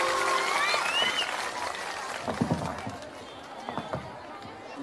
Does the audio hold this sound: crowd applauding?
yes